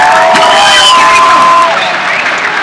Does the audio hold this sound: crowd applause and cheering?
yes